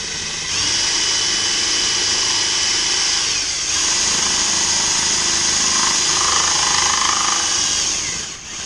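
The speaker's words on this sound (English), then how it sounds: "So I changed to my 3/8 spade bit, and I'm going to drill up till a point comes through" A 3/8-inch spade bit drills a hole during a soft wash and pressure wash trailer build, a loud steady whining drone that runs almost nonstop, with a brief dip in pitch and load near the middle.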